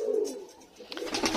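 A lakka fantail pigeon coos close by, a soft low warbling call followed by a brighter rustle of movement, brief and alone.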